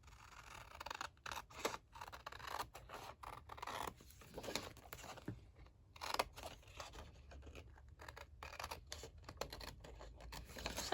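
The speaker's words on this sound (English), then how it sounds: "we're gonna cut this out" Scissors snip through paper for a junk journal in a quick run of short, crisp cuts, close and soft in a quiet room, with small rustles between them.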